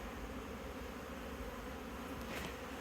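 Honeybees buzzing around hives in an apiary, a soft continuous hum of many insects with no single bee standing out, faint overall, no voices.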